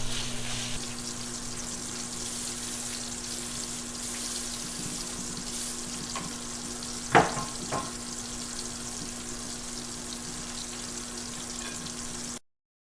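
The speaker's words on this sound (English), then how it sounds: "just break up my sausage." Sausage frying in a pan while being broken up, giving a soft constant sizzle with a few sharp scrapes and knocks of a utensil near the middle before it cuts off.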